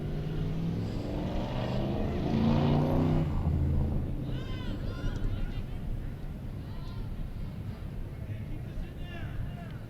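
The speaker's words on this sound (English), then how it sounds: "Sounded like a good muscle car." A muscle car roars past outside a high school soccer stadium, its deep engine rumble swelling loudly over the first few seconds, then fading away as a commentator talks.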